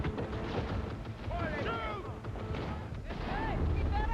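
Gunfire in Cyberpunk 2077: heavy, booming shots and thuds roll under shouted voices throughout, loud and continuous like an ongoing firefight rather than single distinct reports.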